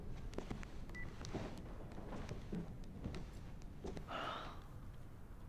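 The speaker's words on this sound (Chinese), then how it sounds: "我打个电话问问。" A telephone is dialed to place a call, with a few soft, brief keypad tones scattered over quiet room ambience.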